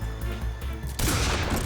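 A loud gunshot from the video game Metal Gear Solid 3 Subsistence bursts in after a run of rhythmic in-game background sound, then rings out in a dense roar and echo.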